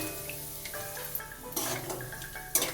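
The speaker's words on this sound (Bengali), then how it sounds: "প্রথমে কয়েকটা বাদাম ভেজে নেব।" Raw peanuts fry in mustard oil in a home kitchen, giving a faint, quiet sizzle with a few soft clinks and stirring noises throughout.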